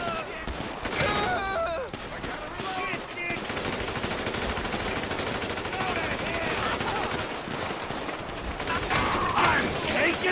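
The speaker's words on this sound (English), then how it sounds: "we got to shoot 35 of these hillbilly rednecks" Sustained machine-gun fire and rapid gunshots from a Grand Theft Auto 5 rampage against hillbillies, dense and loud throughout, with a voice talking over the shooting.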